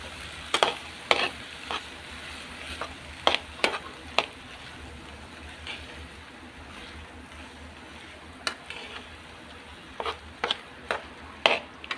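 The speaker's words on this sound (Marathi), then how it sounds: "छानपैकी भाजी आपण ही जो वाटाणा आणि मटकी आहे ती छानपैकी परतून घेऊया" Green peas and moth beans with spices stir-fried in a pan, a soft continuous sizzle broken by sharp, irregular scraping knocks of a spatula against the pan in bursts.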